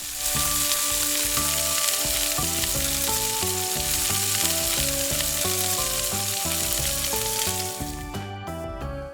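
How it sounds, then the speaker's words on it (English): Prawn marinade fries steadily in a pan, a loud, continuous hiss and sizzle running over background music, with the sizzle easing off near the end. "Fry the leftover marinade."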